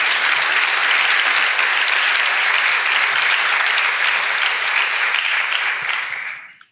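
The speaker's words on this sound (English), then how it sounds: "Let me get a round of applause for that" Audience applause fills the room at a steady, loud level for several seconds, then tapers off quickly at the end, with no voices over it.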